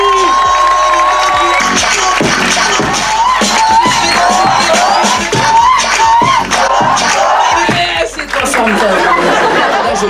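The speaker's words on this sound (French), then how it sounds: "Merci de crier, de faire du bruit pour mon ami Rachid Badouri." A live comedy show audience cheers, shouts and whistles loudly to welcome comedian Rachid Badouri, a dense sustained roar of many voices with claps and shrieks, close and continuous for several seconds.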